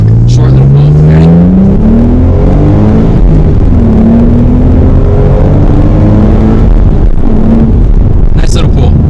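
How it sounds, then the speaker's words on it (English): Inside a V6 Ford Mustang S550 during a short full-throttle pull, the engine note climbs loudly through a couple of rising sweeps with gear changes, growling close-up, with brief voice sounds over it. "I'm going to do a pull real quick, actually. Short little pull."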